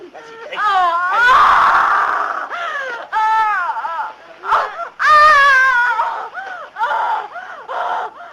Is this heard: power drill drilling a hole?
no